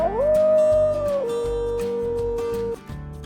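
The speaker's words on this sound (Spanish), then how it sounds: "¿Cuál es el sonido que hace el lobo?" A wolf gives one long howl that rises, holds and then settles onto a lower sustained pitch, heard clearly over bouncy background music.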